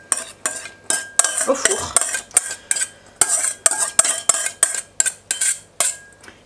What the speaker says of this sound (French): Je vais juste faire mélanger un petit peu pour que la crème et le poireau se mélangent bien